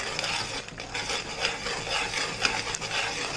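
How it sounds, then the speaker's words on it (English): Ground Vangi Bath spice powder being stirred and mixed in a hot pan, continuous close scraping and rubbing of the spoon with a faint sizzle underneath, no talking. "You keep on stirring or else it will burn in the bottom."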